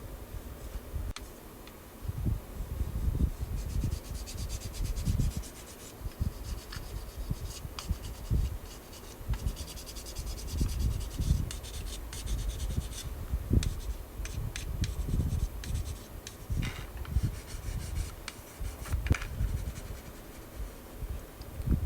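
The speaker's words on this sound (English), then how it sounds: "I also sand the whole body to provide some tooth for the primer to stick on." Sandpaper of 800 grit rubs across the plastic body of a 1/24 scale Audi Sport Quattro S1 model kit: quiet, steady scratchy strokes in irregular bursts, close up, with no talking.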